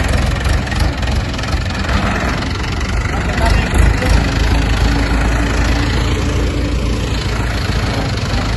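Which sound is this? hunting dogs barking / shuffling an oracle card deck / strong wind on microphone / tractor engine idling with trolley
tractor engine idling with trolley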